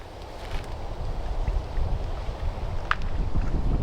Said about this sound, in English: And it's pretty windy today.